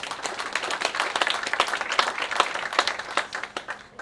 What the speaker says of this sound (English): how about a round of applause for the governor?